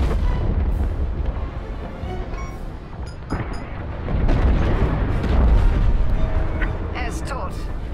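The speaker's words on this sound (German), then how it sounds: "Die Fregatte wird gleich explodieren!" A frigate explodes during a space battle in the Star Wars Squadrons video game, heard as a loud, rumbling low roar with deep booming blasts that swell midway through, while voices speak over the din.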